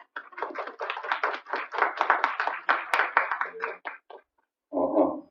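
Audience applause in a hall at an anti-nuclear movement debate forum, a steady run of hand claps for about four seconds that thins out, followed by a short burst of talk.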